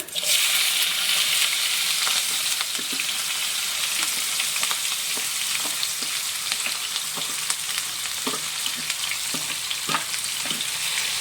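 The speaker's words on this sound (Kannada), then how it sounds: "ಮೀಡಿಯಂ ಫ್ಲೇಮಲ್ಲಿಟ್ಟು ಈರುಳ್ಳಿನ ಫ್ರೈ ಮಾಡ್ಕೊಳ್ಳೋಣ" Chopped onions fry in hot oil with cumin seeds over medium flame for pav bhaji, giving a steady close sizzle with scattered crackles and stirring scrapes throughout.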